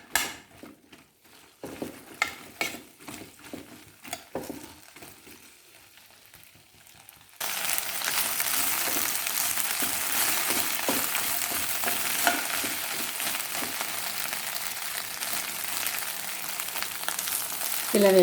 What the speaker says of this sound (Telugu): బెండకాయలు ఇలా నూనెలో మగ్గితే కాసేపు బాగుంటుందన్నమాట